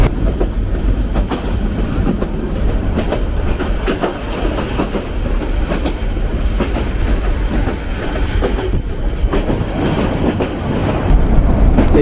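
The Agnibina Express passenger train runs on the rails between Dhaka and Tarakandi, heard from on board as a loud, steady rumble with rhythmic clickety-clack of the wheels that continues throughout.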